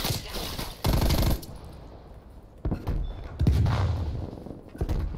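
Stoner LMG light machine gun fire in Call of Duty: Black Ops Cold War, heard as loud close bursts of rapid automatic shots broken by short pauses, with game effects in the gaps.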